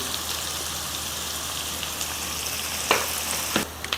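Onions sautéing with a little salt in a pan for paruppu urundai kuzhambu, a steady close sizzle like light rain, with a couple of sharper stirring scrapes toward the end.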